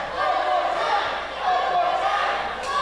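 Crowd at an independent wrestling show in Santa Fe, Texas, chanting in two rhythmic swells for another match, with a commentator talking over the noise.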